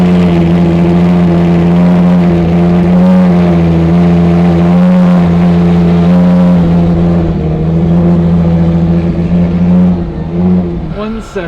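XX track supercars running fast on a race track, a loud sustained engine tone holding steady before a brief rise and drop near the end, heard close and without speech.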